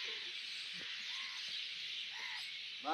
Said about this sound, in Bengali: হাজার হাজার পাখি।